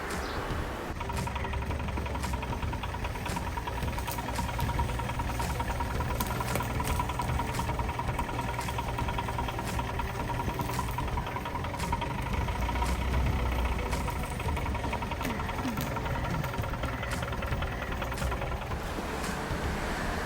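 A restored Hindustan Ambassador car fitted with a new BMC engine idles with a steady low rumble and a fine, regular ticking throughout, heard close and alone.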